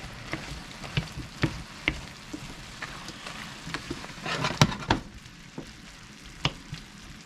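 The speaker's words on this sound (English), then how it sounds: "Okay, now let's add the mushrooms. There we go. Let's stir it around some more." Pig's feet with mushrooms fry quietly in a pan while a utensil clacks and scrapes through them in irregular stirring strokes, close but fairly soft.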